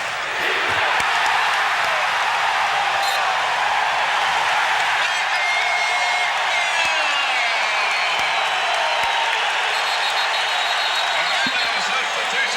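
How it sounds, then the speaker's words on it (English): Basketball arena crowd during an Orlando Magic versus Detroit Pistons game, a loud sustained roar of yelling and chanting for defense that fills the whole stretch, with commentary voices running over it. "listen to the crowd yell for defense"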